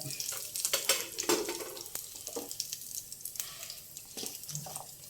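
Urad dal, mustard seeds and cumin frying in hot oil for a carrot, coconut and tomato chutney, giving a steady close crackle with sharper pops and scraping stirs, no talking.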